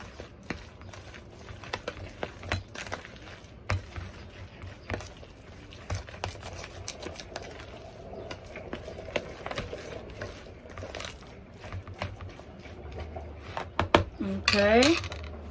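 Utensils clink and scrape against a bowl as salt, Tony's seasoning and other seasonings are stirred together, a steady run of small metallic taps and clatter up close, growing busier and louder toward the end.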